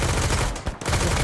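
Sustained burst of machine gun fire in the Mist Survival video game, dense rapid shots filling the clip with a brief dip in the middle, loud and close.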